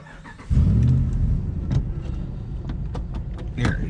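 An older car engine cranks and catches, then idles roughly with uneven, stumbling pulses and a misfiring lope, heard close up from inside the vehicle with a little background clatter.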